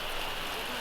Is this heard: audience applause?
no